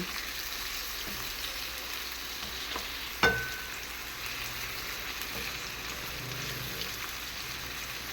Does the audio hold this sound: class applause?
no